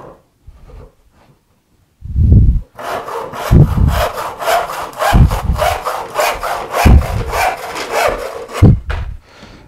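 Hand saw cutting a scrap of Douglas fir, a couple of starting thumps followed by a run of rhythmic back-and-forth rasping strokes, close and loud, with no talking.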